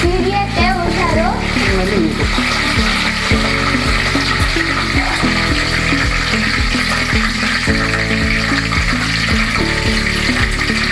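Water poured into a hot pan of tempering (mustard seeds, curry leaves, chillies in oil) while cooking huli anna, giving a steady loud sizzle and bubbling throughout, with music playing over it.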